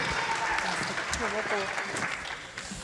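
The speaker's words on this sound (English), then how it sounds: "So give Aubrey another round of applause" Audience applause for a girl named Aubrey at a school blue ribbon ceremony, a steady patter of clapping from a room of people with voices talking over it throughout.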